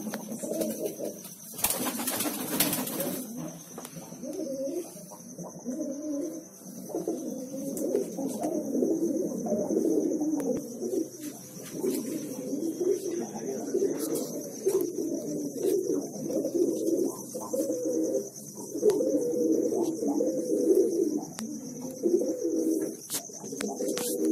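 Pigeons recovering from colds and respiratory illness coo in a continuous low, murmuring chorus, layered and close, with a brief rustle near the start and a faint steady whine throughout.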